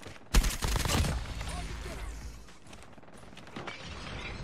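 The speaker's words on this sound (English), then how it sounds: "my nades are going off today" Grenade explosions and gunfire in a first-person shooter game, one loud blast up front and then a rumbling, crackling tail with scattered shots and a voice talking over it.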